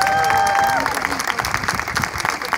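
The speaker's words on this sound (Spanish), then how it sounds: "Quiero pedir un aplauso muy fuerte para todos los profesores de esta universidad" University audience applauding its professors at a Charro Days celebration in Brownsville, Texas: loud, crowded clapping with some cheering, near and sustained throughout, a sung or whistled tone fading out at the start.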